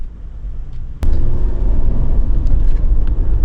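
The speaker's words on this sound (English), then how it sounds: "The traffic is a mess and may take me a while to get there." Car interior while driving through heavy Saturday afternoon road traffic on a food delivery, a low steady rumble that swells suddenly into louder road and engine noise after a sharp knock, no talk.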